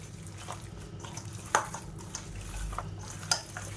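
Chicken is worked by hand with yogurt and spices into a biryani marinade, making quiet wet squelching and stirring, punctuated by two sharp clinks against the bowl.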